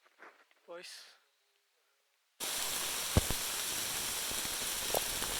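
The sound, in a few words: heavy rain falling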